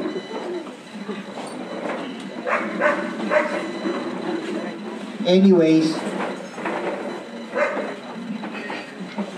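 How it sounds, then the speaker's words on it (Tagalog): A neighbour's dog barks next door, sharp yaps in a short burst heard midway under a man's speech, with birdsong faint in the background. "Talagang nagtatahol na naman ang aso sa kabila eh."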